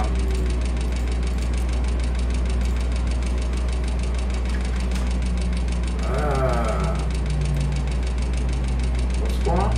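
Steady, droning aircraft engine in a flight simulator runs continuously at an even level, with a voice talking over the hum.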